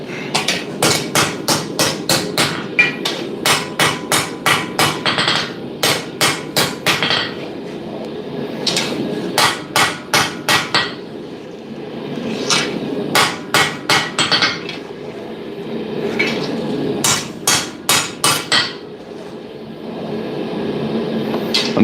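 Hammer blows on hot steel while forging a parang blade, loud and close, coming in fast rhythmic bursts of sharp metallic strikes separated by short pauses.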